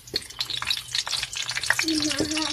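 Fried fish reheating in a pan gives a steady crackling sizzle with bursts of spattering, close and moderately loud, while a brief tonal clink sounds near the end.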